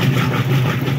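A Kenmore washing machine runs with its lid switch held down, spinning empty: a steady low motor hum with a constant drone, close and even throughout, no voices.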